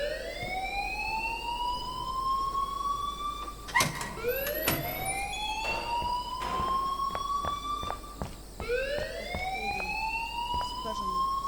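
School alarm ringing in the Life Is Strange video game, with a storm setting. Repeated loud rising electronic whoops sweep upward again and again like a siren. Sharp clatters break in around the middle, and a voice talks briefly under it.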